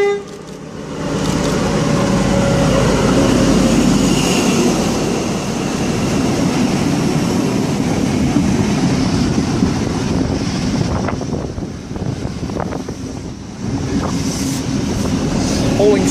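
The XPT train NT35 to Grafton, six cars with power cars XP2002 leading and XP2007 trailing, runs through platform 2 at Adamstown station as a loud, sustained rumble with heavy wind buffeting the microphone.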